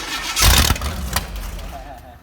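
A 60-year-old GM Corvette V8 cranks and fires up with the choke on, a loud rumbling catch followed by rough running, while people talk nearby.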